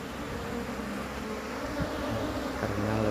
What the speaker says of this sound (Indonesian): Jadi kita nggak usah takut sama lebah,